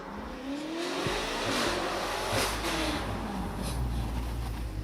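A turbocharged car engine revs with a rising, sweeping turbo whine over a continuous loud roar, heard close and steady throughout.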